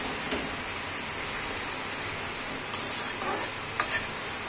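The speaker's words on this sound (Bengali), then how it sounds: "মশলা করে ভালো করে মশলা কষে এখন কলার মোচাটা ফুলটা কষছি।" Banana flower frying with ground spice paste in a pan, a constant close hiss of sizzling oil with a few metallic scrapes and clinks of a stirring spoon near the end, no talking.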